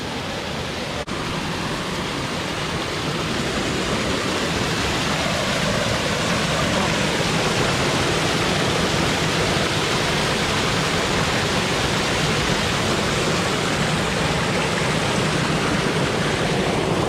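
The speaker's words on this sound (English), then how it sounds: "So we got another cool little waterfall down there." A small waterfall on the Two Runs Nature Trail at Worlds End pours in a continuous broadband rush, steady and fairly loud throughout with no break or talking.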